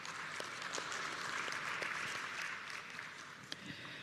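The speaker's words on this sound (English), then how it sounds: "let's give them another big round of applause." Audience applause at a biodiversity policy launch ceremony, a sustained wash of clapping from a large crowd that holds steady for several seconds, heard at a distance and fairly soft.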